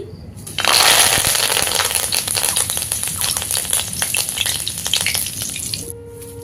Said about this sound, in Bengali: কয়েকটি শুকনো লঙ্কা ভেজে নিচ্ছি কিছুটা কারি পাতা বেজে নিচ্ছি